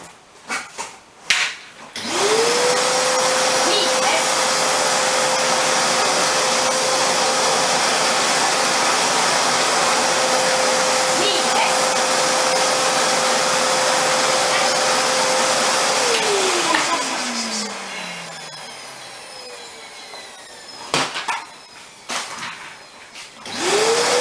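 Vacuum cleaner motor whining steadily and loud for about fifteen seconds, then winding down as it switches off, with brief thumps before and after.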